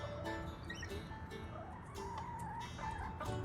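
Backyard chickens clucking softly while pecking at strawberry tops, a low, continuous murmur of small clucks and chirps, close by and fairly faint, with no talking.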